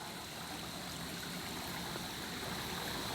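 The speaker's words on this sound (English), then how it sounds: "here we are at Frog Creek" Frog Creek flows in a steady, even rush of moving water at night, a constant broadband stream sound with no voices over it.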